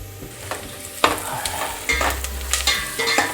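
Chicken and onions frying in a pan with turmeric keep up a continuous sizzle while a utensil stirs them in several distinct scraping strokes, close and clear, with no speech.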